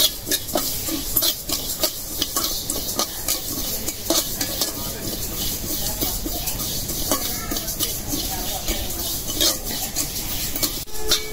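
Black cumin (kalijira) sizzles and pops in a hot pan, stirred continuously with steady scraping and clinking of the utensil against the metal for the whole stretch, close and fairly loud, with no talking.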